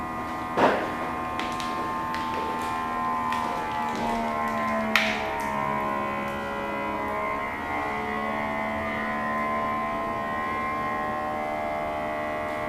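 A vacuum sealer machine for food packing runs with a steady mechanical hum and whine, starting after a click and continuing evenly, with a few small taps early on.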